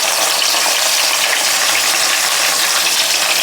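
Fish sizzles loudly in hot oil, producing a dense, steady, close frying hiss with no pauses for the whole stretch.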